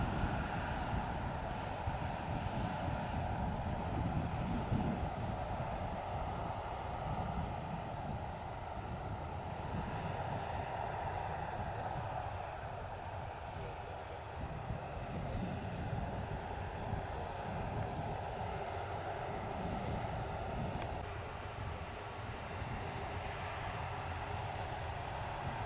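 A parked airliner's right-hand engine runs with a steady, broad roar and low rumble that holds for the whole stretch, fairly distant and unbroken, with no voices over it.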